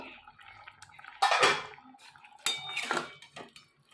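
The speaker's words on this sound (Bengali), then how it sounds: "এবারে আমি ঢাকনাটা খুলে দেখব কতটা কি সেদ্ধটা হয়েছে" A metal lid lifted off a pot of simmering moong dal cooked with fried pointed gourd, giving two clattering bursts of metal against metal at close range, with faint kitchen noise between them.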